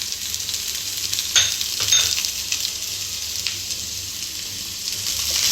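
Chopped carrots hit a hot pan for a spring roll vegetable stir-fry, a loud, steady sizzle with a few stirring scrapes.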